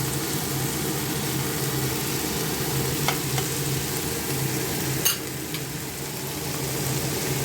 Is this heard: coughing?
no